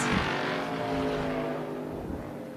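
Race cars at a Tucson Speedway oval start, a dense pack of engines roaring together as the green flag drops, loud and steady with a slight fade toward the end.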